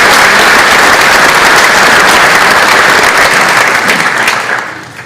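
An audience at a high school senior awards night applauding the class of 2025, a loud, dense roar of clapping that holds steady and then begins to fade at the end.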